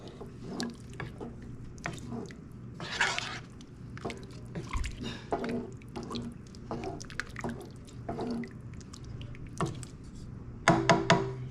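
American goulash in a pot is stirred after a tablespoon each of Italian seasoning and seasoning salt go in, giving soft wet sloshes and spoon knocks in an uneven rhythm, with a sharper clatter near the end.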